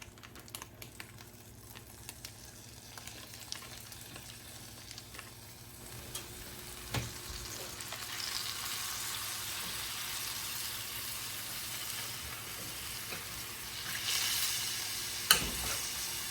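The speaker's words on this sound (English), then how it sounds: "Put this in here and brown this all up." Ground turkey sizzles as it browns in a hot frying pan, the crackle building steadily louder, with occasional clicks and scrapes of stirring.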